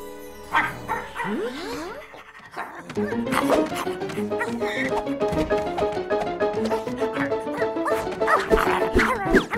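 A cartoon dog barks and yips in quick bursts over a busy animated soundtrack with music, after a brief whimpering opening, in an episode of 44 Cats.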